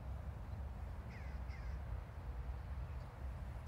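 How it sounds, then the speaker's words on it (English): A crow flies over a riverside path and gives a few faint, distant caws against steady wind-like outdoor noise. "Crow just flew over too."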